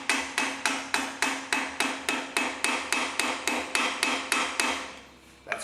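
Screwdriver tapped into a notch to tighten a fitting, giving about seventeen sharp, evenly spaced metallic taps close by with no talk.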